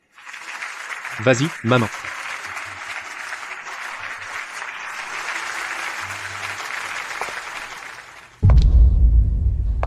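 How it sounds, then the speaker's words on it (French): An audience breaks into applause at a birthday party, a brief burst of clapping that rises after cheering voices and someone calling out, with loud handling noise at the end. "applaudissons chaleureusement pour accueillir la star d'anniversaire la plus importante d'aujourd'hui"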